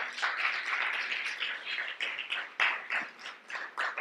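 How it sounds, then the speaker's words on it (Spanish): Church congregation applauding during a sermon, a thin wash of clapping from a crowd, somewhat distant and faint, with uneven swells and no speech. "Dale un aplauso al Señor, por favor."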